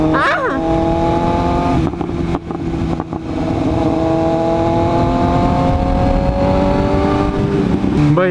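A motorcycle with a new SC Project CR-T exhaust being broken in revs hard and loud up close. Its rising and falling engine pitch shifts through repeated throttle pulls, with wind rushing throughout.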